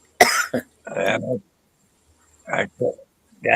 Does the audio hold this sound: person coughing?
yes